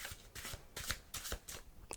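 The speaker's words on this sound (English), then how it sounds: "I will even give it a further shuffle." A deck of playing cards is shuffled during a close-up ASMR card magic routine, giving a run of soft, crisp riffling bursts in quick rhythm, near and quiet, with no talk.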